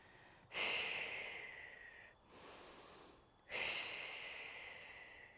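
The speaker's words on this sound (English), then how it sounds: "exhale to pull in" Slow, airy exhales during a yoga-style breathing and mobility practice: two long breaths out, each starting strongly and tapering off, with a softer breath between them, close and quiet.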